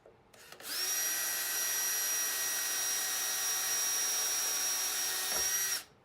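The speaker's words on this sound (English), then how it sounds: "I don't have to guess where to drill the self-tapping screw." A power drill fitted with a small 5/64 inch bit drills a pilot hole for a self-tapping screw in a heat pump fan housing, a loud steady high whine that starts abruptly, holds for about five seconds and stops.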